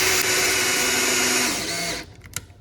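A power drill driving drywall screws during a DIY attic build, a steady whirring motor for about two seconds that winds down, followed by a couple of light clicks and handling knocks.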